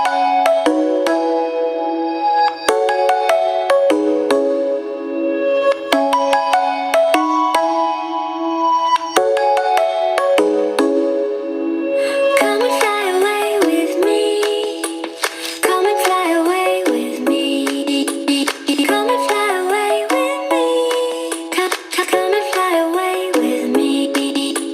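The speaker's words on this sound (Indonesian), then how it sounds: "Ini adalah suara asli dari Sonic Gear Titan 5 yang saya rekam menggunakan mikrofon" Music played through a Sonic Gear Titan 5 BTMI Bluetooth speaker and recorded by microphone: a melodic pop track with singing, sparse at first, then fuller and brighter with dense percussion, loud and steady throughout.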